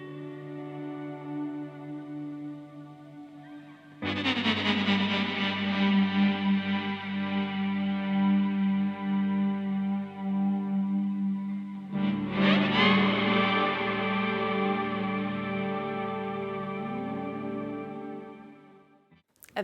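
Sustained electric guitar chords ring out heavily processed with echo and shimmering modulation, two struck chords each swelling and slowly fading.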